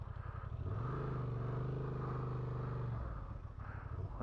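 A Honda Transalp 750 idles and revs off-road on a dirt trail, its engine rising into a steady drone and then dropping back to a rumbling idle close by.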